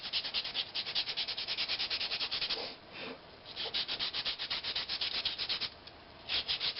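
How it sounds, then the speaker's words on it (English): Walnut being hand-sanded with 150 grit sandpaper, a steady run of quick, close scratchy rubbing strokes with two brief pauses, no talking. "I'll start with 150 grit. This walnut sands really well at 150."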